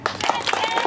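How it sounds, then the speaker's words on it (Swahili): Audience applause at a Monduli public rally, a short burst of many hands clapping at moderate distance with voices and crowd noise mixed in. "Pigeni makofi."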